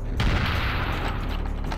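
Dense, rapid gunfire from Serious Sam The First Encounter, loud and close, keeps up without a break for the whole short stretch.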